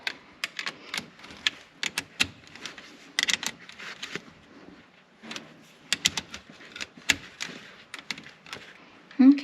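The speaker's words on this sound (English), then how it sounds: "take our 10mm wrench and take out our 10mm bolt on the positive side" A 10mm wrench loosening the positive battery terminal bolt on a CFMoto ZForce 800EX, heard as a run of quick close metallic ratcheting clicks in bursts with brief pauses.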